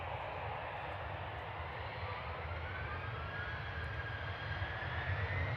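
An EasyJet jet airliner on the Prague service at Manchester Airport gives a continuous loud engine roar with a slowly rising whine, steady and fairly close throughout.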